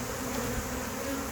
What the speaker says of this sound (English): there's just a lot of bees in here